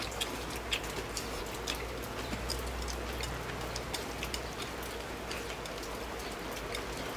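Steady rain drips and patters on the eaves in front of a house, a dense, even hiss with scattered close drops tapping throughout, no voices.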